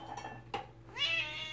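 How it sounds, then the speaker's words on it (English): A female cat meows indoors close by, a short cry followed by a longer rising meow, with faint clinks in the background. "There's the Boo Kitty."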